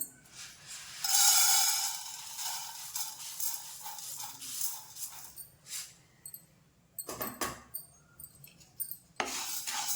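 A quarter kilo of toor dal dry roasting in a pan without oil, with grains rattling and scraping in irregular bursts as they are stirred, close and fairly quiet, with brief silent gaps and no talking.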